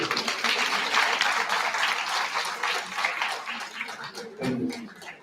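Audience clapping during a college induction program session on human values, a broad steady patter of many hands that tapers slightly toward the end, with some voices underneath.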